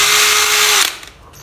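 A Bosch electric drill runs at a loud, steady whine close by, then switches off and winds down into quiet.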